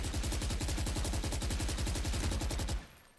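Rapid automatic gunfire in Valorant rakes an ability wall, a continuous, evenly spaced stream of loud shots for nearly three seconds before cutting off abruptly, with no talking.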